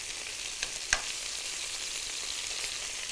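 Onion fries in a pan with an even, close sizzling hiss and a couple of sharp clicks from stirring, with no voices.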